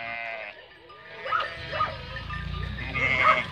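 Sheep bleat in a garden or farmyard, with several wavering, drawn-out bleats overlapping each other at moderate distance, and a low rumble of movement beneath them.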